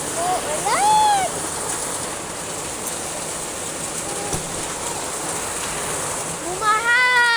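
A steady wash of rain falls continuously, with a few short high-pitched voices briefly rising above it.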